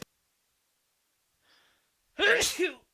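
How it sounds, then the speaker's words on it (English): A faint breathy intake, then a single loud, sharp sneeze close by, followed by silence. "I'm gonna sneeze"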